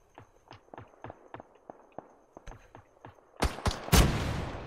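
Rocket launcher firing in PUBG, heard as a string of faint, evenly spaced distant pops followed by several louder, closer blasts with a booming tail.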